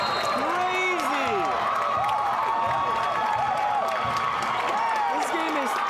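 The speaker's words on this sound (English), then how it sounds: "This crowd goes crazy." A basketball crowd roars in a sustained, loud wall of cheers after a game-tying shot in a women's college game, with sneaker squeaks and an announcer talking over it.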